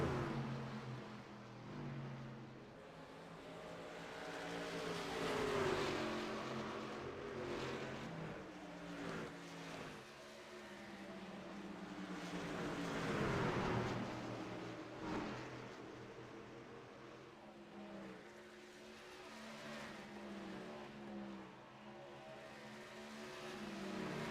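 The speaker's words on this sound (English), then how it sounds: "As a trio of trucks begin to tango now back across the stripe" Racing pickup trucks in a truck series race at Iowa roar across the start-finish line, their engines swelling and fading in repeated waves, distant and faint, with a steady hum of race noise between passes.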